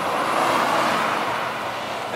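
A Nissan 350Z drives past at a drag strip, its engine a fairly tame, steady broadband rumble that holds close and loud before easing slightly as it goes by, with no talking.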